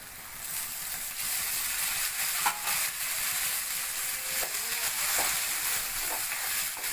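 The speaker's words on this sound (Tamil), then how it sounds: "பெருங்காயம் தக்காளி போடுறேங்க" Tomato and asafoetida sizzle in a hot pan while a South Indian sambar rice is cooked, giving a steady, close crackling hiss with a few faint clicks of stirring throughout.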